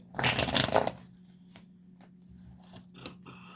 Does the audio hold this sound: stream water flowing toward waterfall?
no